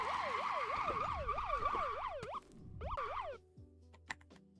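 A police car siren in a video game wails in fast repeating up-and-down sweeps, loud and close, then cuts out and leaves faint clicks and short electronic blips.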